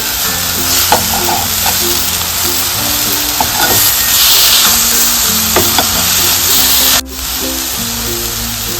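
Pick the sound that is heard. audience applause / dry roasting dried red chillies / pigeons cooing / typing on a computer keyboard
dry roasting dried red chillies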